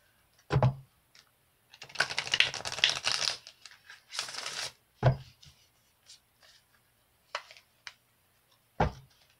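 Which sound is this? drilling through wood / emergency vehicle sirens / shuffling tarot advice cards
shuffling tarot advice cards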